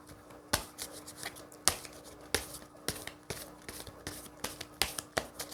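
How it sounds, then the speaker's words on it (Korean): Tarot cards shuffled and drawn by hand, close up: a steady run of crisp slaps and riffling snaps at irregular intervals, fairly quiet and with no talking. "제가 추가 카드 하나 뽑아볼게요."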